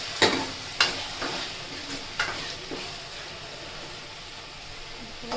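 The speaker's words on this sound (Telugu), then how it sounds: "అల్లం వేసుకుందాము, కలుపుదాం." Ginger is stirred into Gutti Vankaya curry frying in a pan, a soft continuous sizzle broken by a few sharp scraping strokes of the spoon early on, then settling to an even fry.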